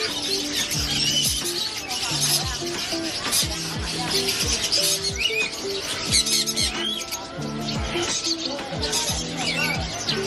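Many caged birds at a pet market in Bangkok's JJ market, a dense, loud chorus of overlapping chirps and repeated harsh squawks in steady rhythm, close by, with people talking underneath.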